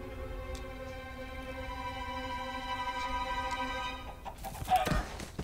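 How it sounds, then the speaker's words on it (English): Chicken clucking from Minecraft Story Mode plays over a sustained tonal background hum, with a few soft clucks and a brief louder burst near the end. "It's a chicken with a crown on."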